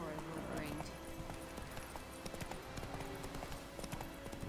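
Horse hooves clip-clop steadily at a riding pace in Witcher 3: Wild Hunt, close and continuous beneath layered game sounds.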